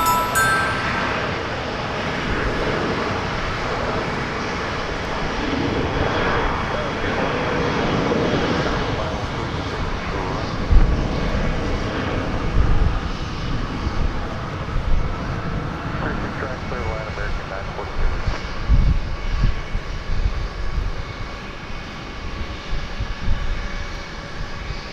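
At DFW Airport an airliner in AirCal livery, heading for Kansas City, rumbles with a continuous jet engine roar on runway 36 right, while people talk over it and a few brief knocks punctuate the noise.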